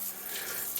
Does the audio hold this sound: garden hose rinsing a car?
yes